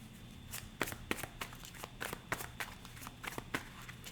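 A tarot card deck being shuffled by hand produces a series of close, quiet riffling snaps and soft slaps at a brisk, uneven rhythm, with no talking over it.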